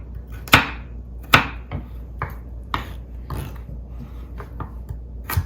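Baby carrots being sliced thin with a knife on a cutting board, giving a series of crisp, close chopping knocks at an uneven pace, two of them sharper and louder.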